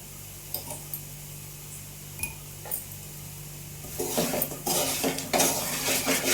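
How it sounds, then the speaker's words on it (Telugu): A spoon scrapes and clinks in a pan as salt is stirred through fried raw plantain slices, with sparse taps at first and then quicker, louder metallic scraping toward the end. "ఇప్పుడు సాల్ట్ మొత్తం కలిసేలాగా కలుపుకోవాలి"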